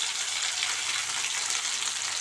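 Small onion frying in oil with urad dal, mustard seeds, cumin, green chilli and curry leaves, a steady dense sizzle that runs evenly throughout without pause.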